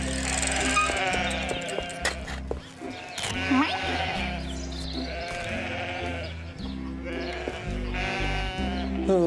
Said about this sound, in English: How on earth am I going to get through all those sheep?